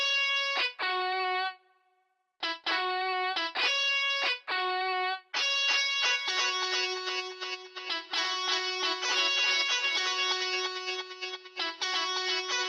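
Synth keyboard lead playing a stop-start melodic phrase, then a denser sustained passage with a shimmering, smeared granular reverb tail from a Portal grain effect hanging behind the notes.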